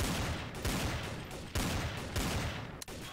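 Gunfire in Garry's Mod's TTT mode comes as dense, rapid volleys of shots in several loud bursts. Brief pauses break the bursts, and the firing continues almost without a gap.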